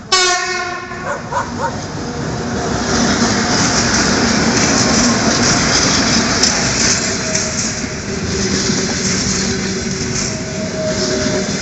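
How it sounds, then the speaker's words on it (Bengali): A train rolls past on the Sukhumi to Sochi railway in Abkhazia, with a horn sounding at the start and then a loud, steady, close rumble of wagons that lasts throughout. "এই ট্রেনটি রাশিয়ার দিকে যাচ্ছে। সুগুম থেকে রাশিয়া সোচি পর্যন্ত যায়।"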